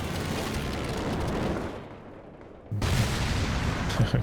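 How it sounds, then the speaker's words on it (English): A Stuka dive bomber strike in Company of Heroes 2: a loud roaring rush briefly drops away, then a heavy, close blast booms back in and keeps rumbling. "Stuka coming down"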